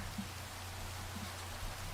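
Steady rain falls in the video game Minecraft, an even, continuous hiss of drops on surfaces with no voices.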